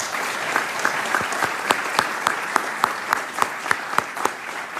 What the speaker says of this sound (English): just for a moment so we can give you a round of applause?